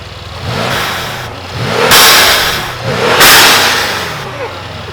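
Two loud, close revs from a Mercedes C63s AMG engine with Weistec blow-off valves, each climbing then dropping back to idle with a rushing air release.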